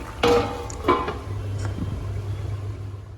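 A metal lid clanks twice onto a boiling cooking pot in a home kitchen, two sharp knocks over a low steady rumble of the cooking.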